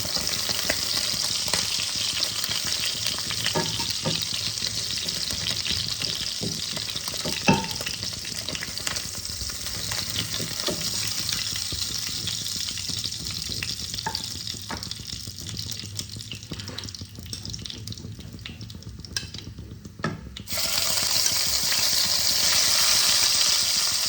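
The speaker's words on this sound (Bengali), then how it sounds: "বাকি মাছগুলোকেও ভেজে নিচ্ছি।" River fish frying in a pan of hot oil, a steady dense sizzle running throughout with occasional spatters and pops, growing louder near the end, with no voices.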